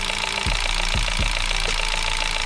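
A Chery Tiggo 8 Pro engine idles with a knocking fault, a loud steady drone broken by sharp metallic knocks that come in an irregular rhythm, heard close up with no talking.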